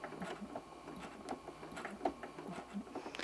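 Home sewing machine making a quick run of short locking stitches while free motion quilting a swirl border, a soft, rapid mechanical patter with faint clicks, fairly quiet and close.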